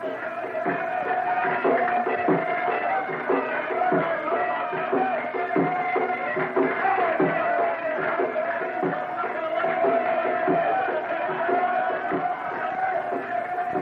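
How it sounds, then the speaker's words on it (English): A crowd of wedding guests and village men follows a bridegroom in an old Egyptian village, a continuous mass of voices and calls with steady percussive beats running underneath. "the bridegroom is followed by the crowd of guests and the men of the village"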